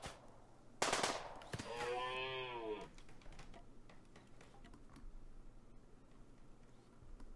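Quiet SMG bursts during hunting in the colony game Rimworld, faint rapid ticking shots scattered through the clip, with a louder rising mechanical whine early on.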